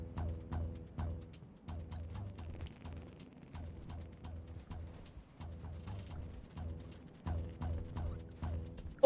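Repeated warbling bird calls in a video game, a series of short gobbling, rattling chirps in quick bursts over a low steady hum, fairly faint and close.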